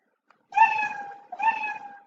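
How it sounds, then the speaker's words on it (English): Two clear cat meows from a Scratch sound effect, one after the other, each long and drawn out with a falling tone, close and fairly loud with no other sound around them. "You repeat it 4 times, the meow."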